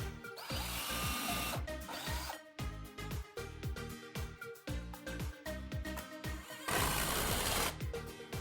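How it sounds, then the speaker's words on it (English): A power drill bores pilot holes into wood for a screw-assembled stand, loud whirring bursts starting and stopping in quick succession, close by with no talk. "We're going to drill a pilot hole first and then just stick the screw in"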